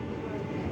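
A moving passenger train rumbles low and steady from inside a coach just after departing Veraval Junction, a continuous close mechanical drone with no distinct beats.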